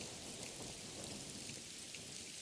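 Heavy rain falls in a Hindi cartoon, a dense steady hiss of downpour with low rumbling underneath, continuous and loud with no voices.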